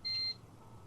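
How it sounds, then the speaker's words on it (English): A single electronic video-game beep, a clear high-pitched tone lasting about a quarter second, rising abruptly out of quiet room ambience and cutting off cleanly. "The beep quickly pulls me back before my thoughts travel any further"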